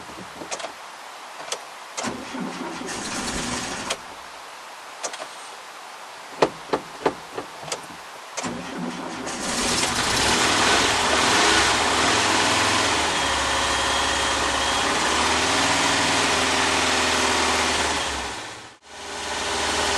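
VW T25 van on a low battery: a sluggish engine crank with irregular knocks and clicks, then the engine catches and runs steadily for several seconds before briefly dropping out and picking up again, close and fairly loud.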